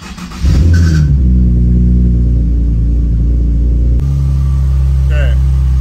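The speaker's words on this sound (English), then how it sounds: "We're gonna start the car now." A drift car's engine cranks and catches, then settles into a loud, steady low idle rumble, close by, with a short shift in tone partway through.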